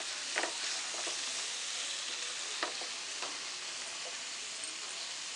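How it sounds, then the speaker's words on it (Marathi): Spices are stirred into mutton kheema frying in a pan, a continuous even sizzle broken by scattered soft clicks and scrapes of the spoon. "आता हे सर्व आपण मिक्स करून घेऊया."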